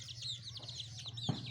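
Chickens being fed wheat grain cluck and chirp in short repeated calls, with a low steady hum underneath and a brief thump near the end; no one speaks.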